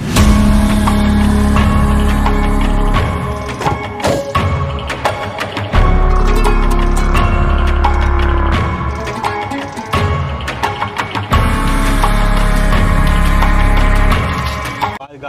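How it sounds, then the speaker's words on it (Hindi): A Mahindra Supro VX mini van's engine runs and revs loudly and close by during a test drive, a continuous mid-pitched drone with rhythmic surges and some rattling, and no one speaking over it. "गाड़ी का आवाज जो है काफी अच्छा है, आपको सुनाई दे रहा होगा"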